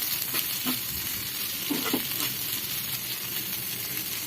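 Okra and onion frying in oil while being stirred, a steady close-up sizzle throughout with soft scraping and tossing sounds from the spatula rising over it now and then.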